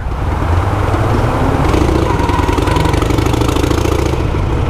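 A motorcycle engine runs at a steady idle with its exhaust baffles reinstalled. It gives a loud, continuous, even rumble on its own for the whole stretch.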